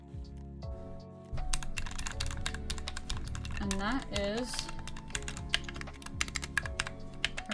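Typing on a newly built YMDK 96 keyboard, the keystrokes clacking in a steady, busy rhythm up close, mixed with talking and some background music.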